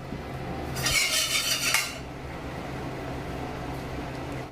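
Cooking oil poured into a pan while making a Thai jungle curry with soft-bone pork, a short bright splash and clatter near the start, then a low steady kitchen hum with no talking.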